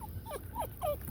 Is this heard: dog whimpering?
yes